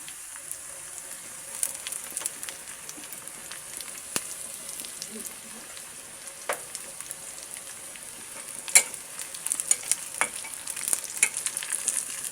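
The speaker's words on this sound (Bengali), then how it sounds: "পেঁয়াজ রসুন এবং শুকনো মরিচটাকে আমি ভেজে নিচ্ছি" Onion, garlic and dried red chillies frying in oil for a mushroom vegetable dish, a soft, steady sizzle with faint crackles and occasional stirring clinks, quiet and close throughout.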